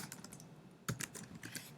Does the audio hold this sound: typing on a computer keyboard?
yes